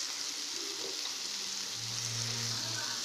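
Small soya chunks fry in hot oil in a pan, producing a steady, even sizzle that runs unbroken throughout, with a low hum underneath and no speech.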